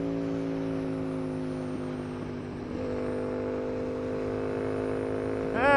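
Steady engine drone of an Aprilia RSV motorcycle while riding, a sustained harmonic hum holding at one pitch with a brief rise in revs at the very end.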